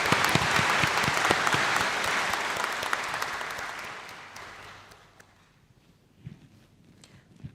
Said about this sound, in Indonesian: Mari sebagai bentuk penghargaan kita berikan aplaus untuk mereka.